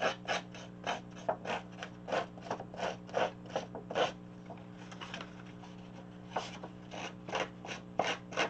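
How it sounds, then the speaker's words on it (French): A household dishwasher hums steadily and low in the background while repeated short rasping, rubbing strokes sound up close in the foreground. "Le bruit que vous entendez, c'est mon lave-vaisselle."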